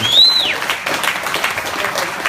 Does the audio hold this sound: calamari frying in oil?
no